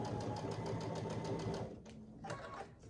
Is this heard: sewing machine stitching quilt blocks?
yes